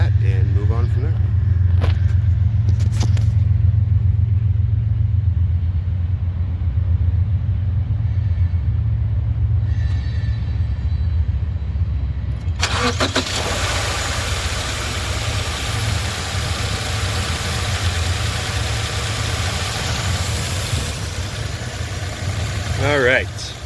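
A 2019 Subaru Outback engine warm-starts with a brief crank and catch, then idles in a steady low rumble, close and constant, with a burst of broadband noise partway through.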